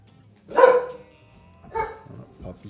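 A puppy gives two or three short barks and yips close by, spaced apart, with faint background noise from the space-salvage game Hardspace: Shipbreaker underneath.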